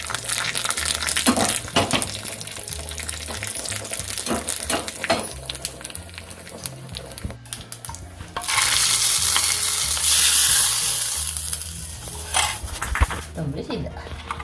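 Neem leaves, cumin and a small chili tempering in hot oil for a Malnad-style white hibiscus tambuli, a loud hiss surging midway amid scraping stirs and clinking pan sounds, with a voice talking over parts of it.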